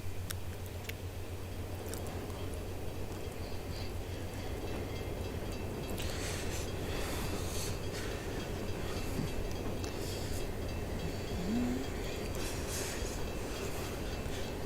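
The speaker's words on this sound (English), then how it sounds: "It's all empty grain cars on this train." A freight train of empty grain cars rolls along in the Open Rails simulator, a steady low rumble with rhythmic wheel clatter and occasional faint squeal, continuous and moderately loud.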